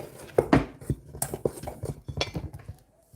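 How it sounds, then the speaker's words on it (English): Turkey pot pie ingredients being mixed in a bowl, with a quick run of close spoon-on-dish clinks and scrapes at an uneven rhythm and no talking. "Just gonna start to mix that together."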